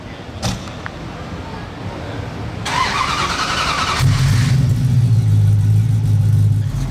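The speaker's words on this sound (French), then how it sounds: "on va avoir un start-up d'une ancienne Aston Vantage" An old Aston Martin Vantage starts up: a brief starter whirr and crank, then the engine catches and settles into a loud, steady low idle rumble, close by with no talk.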